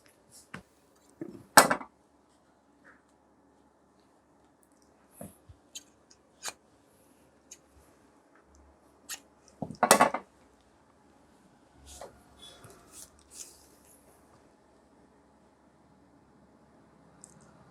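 Scissors cutting shirt fabric for the back and shoulder of a men's ready-made style shirt, with sparse, quiet snips and two louder crunching cuts close by.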